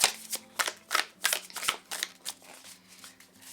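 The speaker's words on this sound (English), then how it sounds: "It's so nice to like shuffle a new deck." A new deck of cards is shuffled close up in a quick series of soft riffling bursts, each a short papery flutter, over a faint low hum.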